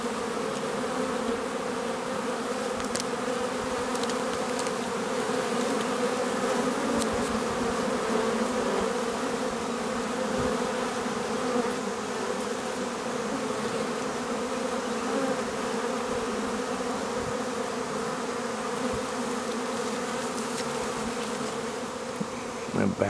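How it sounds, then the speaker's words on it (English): A June bee swarm hums around a low tree, a dense, steady buzz lasting throughout, with occasional individual bees droning closer past the microphone. "Look at the amount of bees here."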